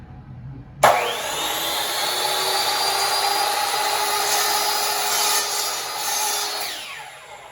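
A power saw cuts through a wooden board for building parallettes, starting abruptly and then holding a loud, steady, whining buzz for about six seconds before trailing off.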